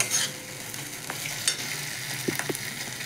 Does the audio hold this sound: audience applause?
no